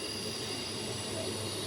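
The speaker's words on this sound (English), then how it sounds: "the Ellenbrook Line train is coming in" An Ellenbrook Line train pulls into Perth station, a steady low rumble of wheels and motors with a faint high whine spread evenly across the short stretch, no voices over it.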